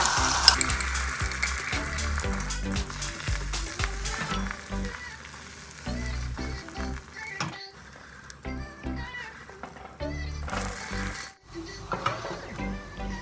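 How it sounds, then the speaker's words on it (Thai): A thin beaten-egg omelette frying in a pan, a steady loud sizzle with occasional crackles and stirring clatter, close by throughout with no talking. "เรามาทอดไข่เจียวใบที่สองตามเลยค่ะ"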